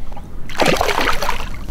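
A spotted grunter being released back into the water of the Gnubi River estuary in the Eastern Cape, making a close splash and slosh that follows a quiet moment.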